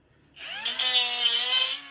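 An angle grinder bites into a piece of iron for a spark test, its harsh, high-pitched grinding whine starting abruptly and holding steady and loud for nearly two seconds.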